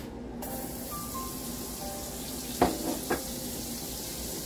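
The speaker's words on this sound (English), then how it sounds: "we're going to put those into the skillet and let those saute for a little bit" Purple onions and okra sauté in a skillet with a steady low sizzle throughout, broken by two short sharp clatters of a utensil against the pan near the end.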